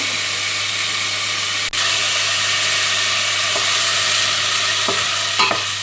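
Onions or similar ingredients gently sweating and browning in a pan for homemade pizza, a steady close sizzle and hiss throughout with a brief dip and a few light clicks of a utensil near the end.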